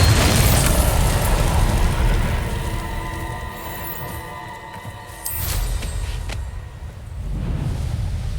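The Bombarda blasting spell explodes in Hogwarts Legacy, a dense, loud rumbling boom that rolls on for several seconds, swells again, with no one talking.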